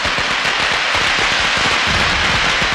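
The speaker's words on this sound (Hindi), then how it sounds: "फिर भी पटाखे चला रहे हैं, वो भी बीच सड़क पर।" A rapid, dense string of firecrackers crackles and pops nonstop in the middle of a street, loud and close, the bursts running together like a continuous rattle.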